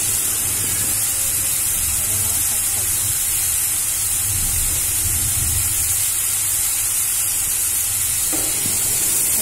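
Prawns fry loudly in a hot pan, giving a steady, dense sizzle and hiss that runs the whole time, with occasional stirring movements underneath and no talking.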